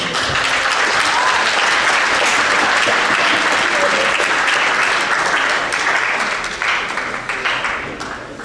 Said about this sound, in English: please give a round of applause. First for Republican Jim Crocker.